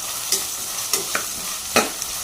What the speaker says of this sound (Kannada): ಈರುಳ್ಳಿ ಫ್ರೈ ಆದ ನಂತರ ಬಟಾಣಿ ಹಾಕಿದ್ದೇನೆ, 1 ಕಾಯಿ ಮೆಣಸು ಹಾಕಿದ್ದೇನೆ.